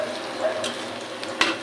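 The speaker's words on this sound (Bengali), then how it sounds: "এখানে যে মাছের জন্য মশলা কষিয়ে নিচ্ছি, পেঁয়াজ কাঁচামরিচ, এটা ভালো করে ভাজা হোক।" Onion and green chili fry for a fish curry masala in a hot pan, giving a steady close sizzle with a few sharp scraping stirs near the end.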